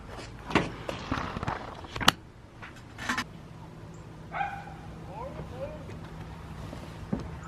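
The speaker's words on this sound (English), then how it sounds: "Unless you want to hear a barking dog in the background." A dog barks several times in sharp, irregular bursts, then gives a few whining yips, with faint traffic in the background.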